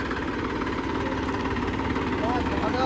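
A tractor engine runs steadily at idle nearby, a continuous loud low rumble with constant vibration throughout.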